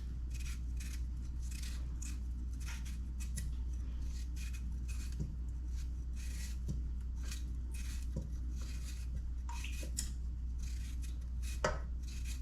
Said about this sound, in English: I use my bread knife